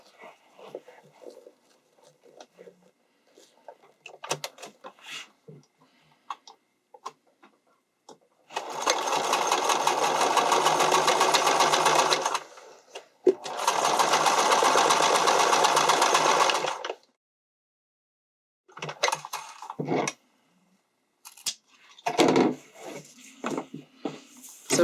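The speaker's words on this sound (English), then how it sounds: "So first off, we're sewing this bottom clip." A sewing machine stitches a clip onto a strappy underwire bikini top in two long steady whirring runs, each several seconds, loud and close, with shorter bursts and fabric handling around them and a voice talking at times.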